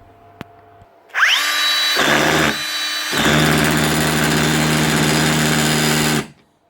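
A Bosch mini SDS hammer drill with a faulty hammer mechanism whirs up loudly and runs with a steady, buzzing rattle, briefly easing off before running on, then stops abruptly.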